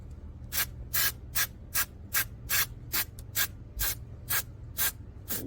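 Aerosol coating sprayed onto an outboard motor nut on a 2025 Yamaha 200hp Vmax SHO, a dozen or so short hissing bursts in a steady rhythm, close and clear over a low background hum, no talk.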